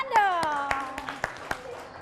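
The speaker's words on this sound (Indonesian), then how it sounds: "tepuk tangan dong" Schoolchildren in a primary classroom clap their hands in a steady rhythm of about seven sharp claps, with a voice speaking over the opening beats.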